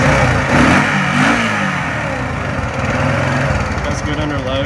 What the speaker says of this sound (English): It revs up high RPM.